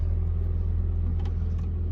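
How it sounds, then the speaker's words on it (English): A Nissan 240SX S13's engine idles steadily just after starting, a low, even rumble with a rhythmic throb, close and moderately loud with no talk over it. "Alrighty, so the car turned on."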